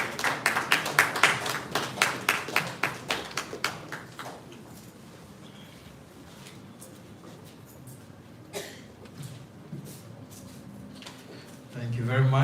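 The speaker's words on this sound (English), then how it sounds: "with a big round of applause" An audience at a regional health directorate review meeting gives a short round of applause, sharp distinct claps in a quick rhythm that die away after a few seconds, leaving quiet room noise with faint stirring.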